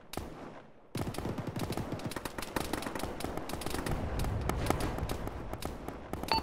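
A heavy Arma firefight: sustained machine gun bursts and rifle shots hammer almost continuously after a quieter opening, with dense overlapping reports and sharp individual cracks throughout, close and loud.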